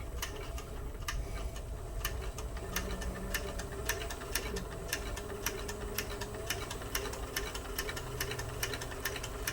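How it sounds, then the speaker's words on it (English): Sewing machine stitching a leather purse, a rapid steady ticking of the needle running continuously under a low motor hum, close up. "we're gonna stitch her up"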